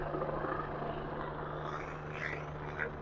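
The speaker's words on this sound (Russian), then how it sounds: "Вертолет." A helicopter passes overhead on a city street in Ulaanbaatar, a steady distant rotor rumble and whine that holds at a moderate level with no voices.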